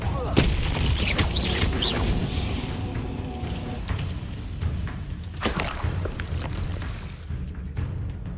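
Confringo, an explosive spell, cast in the Hogwarts Legacy video game: a sharp blast near the start and another burst midway, over a dense bed of rumbling battle effects.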